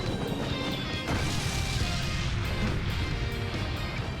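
Loud, dense explosions in Persona 5 Strikers crash and boom in quick succession, a constant roar of blasts and debris with heavy low rumble throughout.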